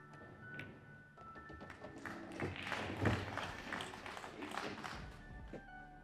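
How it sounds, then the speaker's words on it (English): A scattered smattering of applause rises from the crowd at a European Open pool tournament, with soft irregular claps swelling in the middle and then fading. The sound stays quiet and somewhat distant. "The smattering of applause you might have heard"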